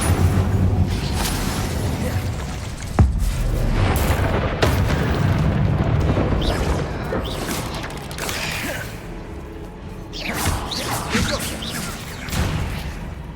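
Repeated fire-spell blasts in a Hogwarts Legacy battle, booming bursts and crackling flames layered with other spell impacts and combat effects, loud and continuous with sharp hits around a few moments.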